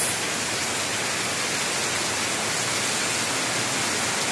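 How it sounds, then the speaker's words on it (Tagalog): Heavy rain pours down in Davao, Philippines, in a dense, steady roar that fills the whole clip without a break. "Grabe na lang yung ulan dito araw-araw"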